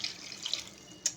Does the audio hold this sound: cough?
no